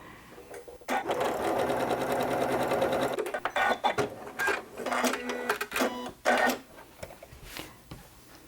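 A sewing machine stitches a quilt-as-you-go block on batting, running in a close, steady whir for a couple of seconds and then in short stop-start bursts.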